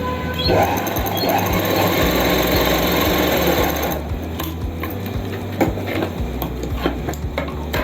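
Sewing machine stitching the bottom of a pocket on palazzo pants, a steady close whir lasting about four seconds before easing into lighter, uneven mechanical clicks and handling sounds.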